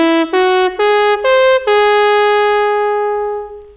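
A run of five stepped whole-tone pentatonic notes on an electronic wind instrument (EWI), bright and reedy, each pitch shifting cleanly upward before the last note holds and fades out.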